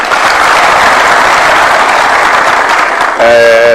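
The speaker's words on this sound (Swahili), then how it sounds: "Mpigeni makofi." Crowd applauding at a political rally in Nairobi where President Ruto speaks, a dense, loud, steady wash of clapping that carries on for several seconds before a bright tonal sound cuts in near the end.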